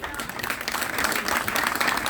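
A large outdoor rally crowd claps and cheers in sustained, dense applause, steady and loud throughout with no pauses.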